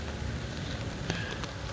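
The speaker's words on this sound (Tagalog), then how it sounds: "Kasagsagan ng ulan." Rain falls steadily while someone walks outdoors under an umbrella. The patter is soft and fairly faint, a continuous hiss with occasional sharper drops.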